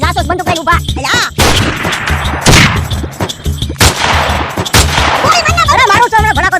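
Bursts of gunfire in a rural comedy scene, sharp loud shots and rapid volleys crackling close by between shouted voices.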